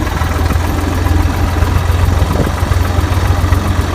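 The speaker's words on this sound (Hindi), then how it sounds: "ट्रैक्टर चलेगा आराम से" A tractor engine idles in a farm field, a steady loud low rumble with continuous mechanical vibration and a constant throbbing pulse, close by and without any talking.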